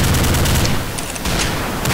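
Rapid gunfire from a TPG-1 sniper rifle in the online shooter Combat Arms, a dense burst of loud cracking shots continuing through the two seconds with no talking.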